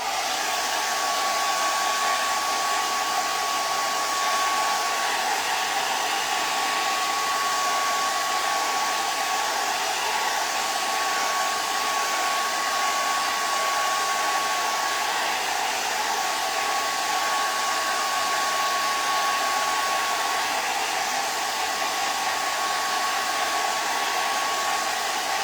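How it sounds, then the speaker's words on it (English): A hair dryer runs steadily at close range, drying paint on a craft snowman, a continuous loud whooshing hum with a faint high whine, unbroken and with no voices. "I'm going to turn my dryer on for just a minute."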